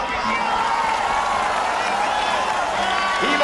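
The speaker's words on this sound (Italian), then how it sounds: "diamo un applauso al Papa" A large crowd gathered in Rome applauds the Pope at a Neocatechumenal Way anniversary event, a loud continuous roar of clapping mixed with cheers and voices calling out.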